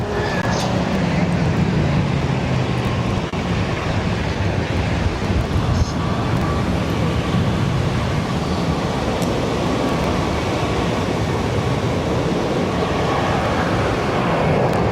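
An airliner departing Barcelona airport in wet weather makes a steady, loud broadband roar through the full 15 seconds, with wind noise over the microphone and no pause in the sound.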